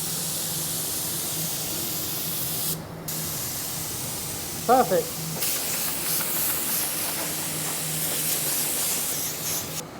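A spray gun hisses steadily as it paints a custom Aston Martin, a continuous close airy spray with a brief pause, and a voice speaks once in the middle.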